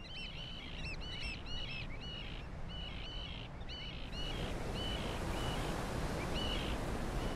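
Oystercatchers calling along an African coastline, a series of sharp, piping repeated calls at moderate distance over a constant wash of surf and wind that grows louder partway through.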